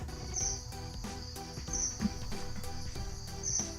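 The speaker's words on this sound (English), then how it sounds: "crickets. This is the sound of my YouTube audience leaving this video." Crickets chirp in a stock sound effect from an old version of iMovie, with a steady repeating trill and brief high chirps recurring at regular intervals, heard alone.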